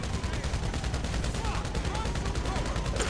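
Rapid gunfire from Grand Theft Auto V rattles continuously through a dense, loud mix of shots and game noise, with bursts overlapping one another and a voice faintly underneath.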